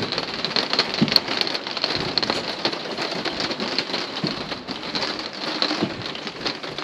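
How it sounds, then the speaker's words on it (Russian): Rain drums steadily on the roof of a European caravan trailer, a dense, close patter that continues evenly throughout with no voices. "давайте сейчас зайдем в европейский прицеп и послушаем, как дождик стучит по крыше"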